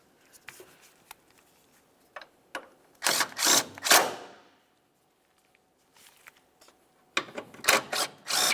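Clicking ratchet bursts while tightening the timing belt tensioner mounting bolts on a 2011-2018 Volkswagen Jetta, short loud ratcheting runs separated by quiet pauses and a few isolated clicks.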